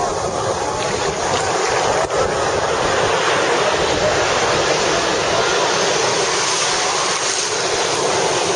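Ocean surf pounding in a continuous loud roar as a big wave carries a crowd of about 125 surfers in a group riding attempt, with heavy wind buffeting the microphone throughout.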